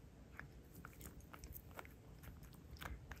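A pet crunches and bites on a dried capelin (smelt) treat, quiet close-up chewing with repeated small cracks throughout and no talk over it.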